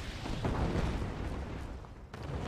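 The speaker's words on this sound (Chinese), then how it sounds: "你看他这个无畏战舰一直炸我" Shelling explosions from a dreadnought battleship in Red Alert make a steady rumble of distant booms and bursts, dense and continuous, with a brief dip before the blasts resume.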